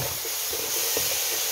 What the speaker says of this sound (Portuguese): já fritando a cebola e o alho